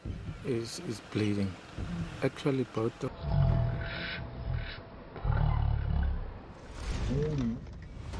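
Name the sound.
lions roaring during a fight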